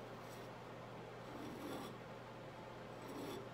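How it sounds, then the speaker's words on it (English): A putty knife scrapes and works layers of paint on a furniture piece during an ombre paint makeover, giving a steady, soft, close rasping with slight swells, alone without talk over low background hum. "I'm just working the layers with this putty knife."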